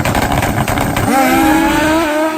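Turbo and nitrous drag bikes launch side by side at a drag race, a loud broadband roar that sharpens into rising, screaming engine whines as both machines accelerate hard.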